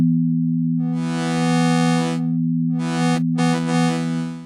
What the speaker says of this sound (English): it defaults to this wavetable that goes from a sine wave up to a square wave